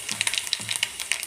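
Mustard and cumin seeds tempering in hot oil, a steady bright sizzle of frying with quick crackling pops at an irregular rhythm, close and fairly loud, no voices.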